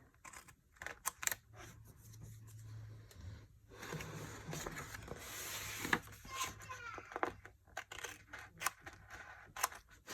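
Scissors snip through paper for a creative journal Dutch door layout, giving a run of quick, close, crisp cuts with pauses between them and faint room noise underneath.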